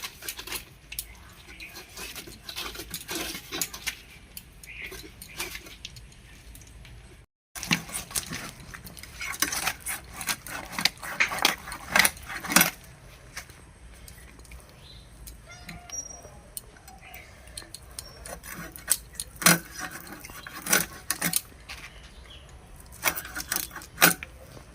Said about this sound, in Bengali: এবার মাছটা কেটে নেব।